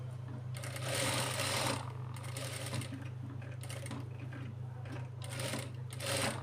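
Sewing machine double-stitching a child's lehenga blouse, running in a steady close mechanical whir with a constant low hum, speeding up in several separate bursts.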